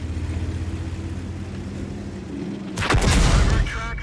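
A tank cannon fires in the video game World of Tanks, one loud, sudden boom with a roaring tail that rises out of a low, steady engine rumble.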